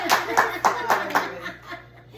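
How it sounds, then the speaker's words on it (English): A small group claps together at the close of a first yoga class in a sober living house, a short burst of applause with some laughter that fades out. "And a round of applause."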